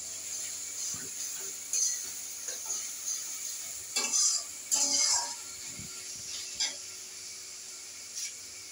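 Ginger and garlic fry in a pan with a faint steady sizzle, broken by the occasional scrape and clink of a spoon stirring against the metal. The scrapes come louder in short bursts and no one speaks.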